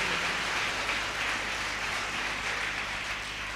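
Steady audience clapping at a Hindi comedy poetry show, a dense even patter of many hands that runs unbroken and fairly loud.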